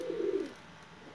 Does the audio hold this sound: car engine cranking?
no